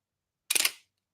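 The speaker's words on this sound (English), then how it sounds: "That's a crazy shutter." A camera shutter fires once, a loud, close mechanical clack that breaks into a short burst of rapid rattling and fades quickly into silence.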